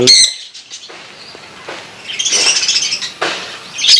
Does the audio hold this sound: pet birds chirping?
yes